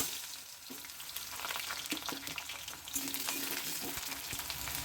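Cut potatoes fry in smoking hot oil in a pan, a dense crackling sizzle with scattered pops and a few stirring clicks, close and steady with no voices.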